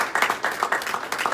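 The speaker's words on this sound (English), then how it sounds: "Let's give him a round of applause." Audience applause at a trading-strategy talk, a brief burst of several people clapping in quick irregular claps at moderate loudness, with no voices over it.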